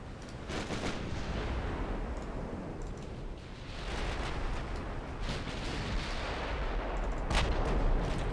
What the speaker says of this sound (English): that was a good hit again from a 6-inch gun.